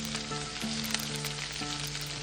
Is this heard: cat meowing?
no